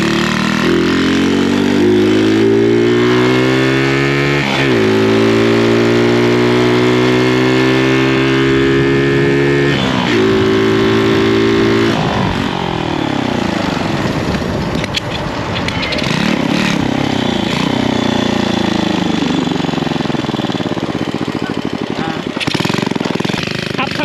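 A Honda Wave 100 motorcycle fitted with an aftermarket exhaust runs loud and close, its engine note rising and falling through repeated revs with a harsh, rattling edge, while voices are heard around it.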